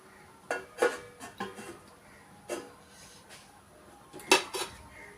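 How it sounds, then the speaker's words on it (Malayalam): A metal lid is set on a cooking pot with several light clanks and clinks, a few scattered knocks followed by a sharper double rattle near the end, close and fairly quiet. "ഇതൊന്ന് മൂടി വയ്ക്കാം നമുക്ക്."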